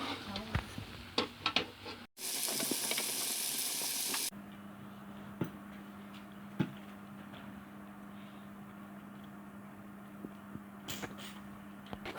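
Fish cooks in a pan outdoors beside the River Ravi, giving a faint steady sizzle with a low hum and a few soft clicks, plus a loud burst of hissing noise early on.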